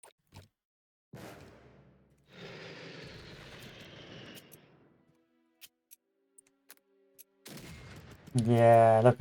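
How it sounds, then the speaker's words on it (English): An artillery barrage in the strategy game Unity of Command 2 (Don 42 DLC) plays as a few rumbling, muffled bursts separated by quiet gaps and small ticks, ending with a louder swell. "look at that sweet, sweet artillery barrage"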